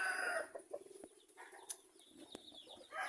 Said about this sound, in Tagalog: Ito naman yung mga sisiw natin mga guys.